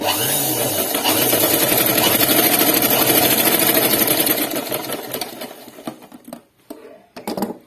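Sewing machine stitching a collar neck dress: a loud, close, rapid mechanical whirr and needle chatter runs steadily for several seconds, then slows and breaks into short bursts and pauses as the stitching stops and restarts.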